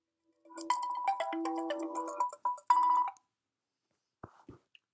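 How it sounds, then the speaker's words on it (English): A phone rings with an incoming call. A short melodic ringtone of bright tonal notes plays for a few seconds, followed by silence and a couple of faint clicks. "Phone call."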